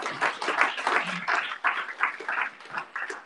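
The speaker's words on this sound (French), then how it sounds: "On peut l'applaudir." Audience applause at a hearing-style talk event, a steady patter of many hands clapping for about three seconds, moderately loud and close, with faint pulsing swells and no voices over it.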